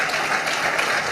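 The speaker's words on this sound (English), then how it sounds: "You're supposed to clap for that." For a moment an audience at a speaking event breaks into a short, dense patter of clapping. It is fairly loud and steady.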